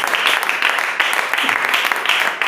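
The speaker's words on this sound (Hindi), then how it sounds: "फिर से आप ताली दे सकते हैं।" A church congregation claps in a steady, continuous wash of applause, loud and close, with a faint voice underneath.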